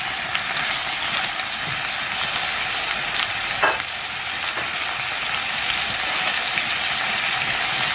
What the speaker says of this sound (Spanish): Los vamos a sofreír por unos minutos.